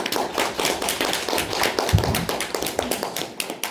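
An audience applauds to welcome a group leader to a lecture, with dense, steady clapping from many hands that holds at an even level throughout.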